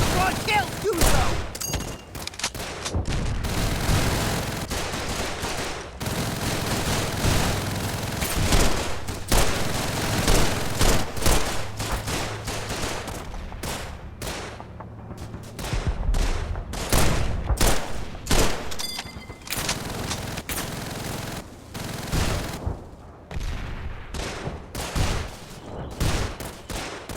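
Machine gun fire in the World War II shooter Call of Duty 3, with rapid bursts and single gunshots crackling almost nonstop, some close and sharp, others distant, mixed with occasional booms and faint shouting.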